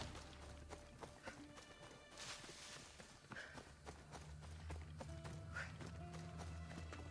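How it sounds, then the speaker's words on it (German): A horse gallops in Assassin's Creed Odyssey, with steady rhythmic hoofbeats, a whinny or two and scattered game sounds, moderately loud with no talk over it. "Kann das Pferd eigentlich schneller?"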